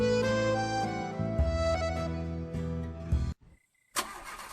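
A car engine turns over and cranks with a loud, sustained churning whine that cuts off abruptly, followed by a brief quiet and then a renewed burst of noise.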